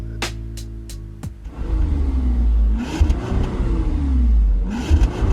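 A Bentley Flying Spur luxury car idles, then revs in two deep surges, its loud exhaust note rising and falling close by after a few sharp clicks.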